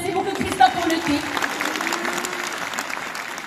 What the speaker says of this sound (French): On applaudit Christophe.